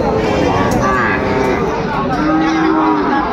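Young bull calves moo loudly nearby, drawn-out calls rising and falling, amid a busy crowd of people talking in the background at a cattle market.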